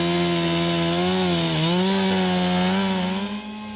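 A chainsaw cuts through wood during tornado cleanup, its engine holding a steady loud whine with a slight dip in pitch midway, running continuously close by until it eases near the end.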